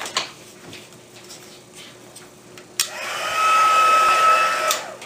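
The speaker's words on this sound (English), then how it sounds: "It's pretty wet, so I'm going to heat set it." A heat tool dries wet Brusho paint, starting after faint ticking and small handling taps with a sudden click, then a steady close blowing whir with a high-pitched whine that runs until the end.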